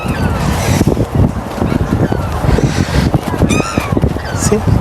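Loud, repeated honking calls from black swans at Western Springs, New Zealand, several overlapping, with outdoor rumble and some voices in the background.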